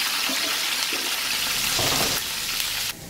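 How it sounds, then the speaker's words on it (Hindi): Garlic frying in a pan of hot oil for a Pakistani dal makhani, a steady, loud, close crackling sizzle that runs throughout and drops slightly in level just before the end, with no talking. "जैसे ये फ्राई होना शुरू हो जाएगा हमारा लहसुन"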